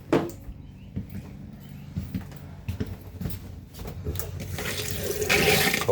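Water runs from a bathroom tap in a 2016 Solaire, a steady rush that swells louder toward the end, with a few knocks and clatters along the way.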